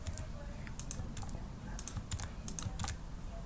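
Keys on a computer keyboard click in short quick clusters as copy and paste shortcuts are pressed while coding, close and fairly soft, with faint background hum.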